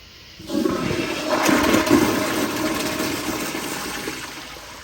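A Kohler Kingston 1.6 gpf toilet flushes during a toilet paper line test: a loud rush of water bursts in after half a second and keeps roaring steadily, then eases slightly toward the end, with no voices.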